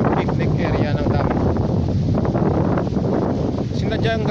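Cold wind gusts steadily across a dam picnic area, buffeting the microphone with loud, constant roaring noise while a voice talks over it.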